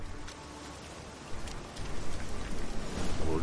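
Steady rain sets in within a video game, a continuous broadband hiss of falling drops that thickens and grows slightly louder over a few seconds, with no voices over it.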